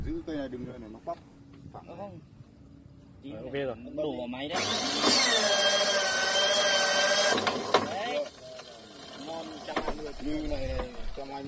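A rebar bending machine bends steel beam and column bars into right angles on a home construction site, giving a loud sustained mechanical whine for a few seconds in the middle, with talk before and after.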